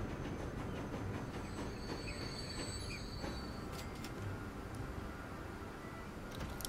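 A train pulls into a station in the video game Transport Fever 2, set in 1930s Switzerland, with a steady loud rumble of wheels on rails, high squealing of braking wheels and occasional clicks, with no voices.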